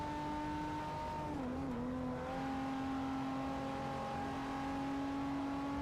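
Car drifting in Forza Motorsport 4, a steady engine drone with tonal whine holding nearly level, dipping briefly midway as the revs shift, then sustained and loud throughout without talk.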